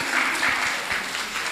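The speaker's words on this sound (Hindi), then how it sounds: "तालियों के साथ स्वागत।" An audience gives a short burst of welcoming applause for a guest stepping onto the stage at a yoga and music event, moderately loud and brief.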